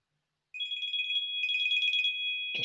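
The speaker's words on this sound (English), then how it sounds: "I'll just get rid of that phone call." An incoming call sets a phone ringing in a lecture room, a steady electronic warbling tone starting after a brief silence and continuing close and fairly loud until a short knock at the end.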